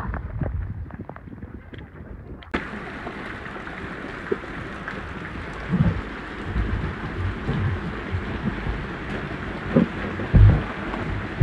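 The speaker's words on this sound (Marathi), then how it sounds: "परत पाऊस आलाय, थोडा जास्त आहे" Heavy rain falls steadily at Karnala fort, a dense outdoor wash of drops with occasional thuds and patters nearby, growing fuller after a couple of seconds and continuing without break.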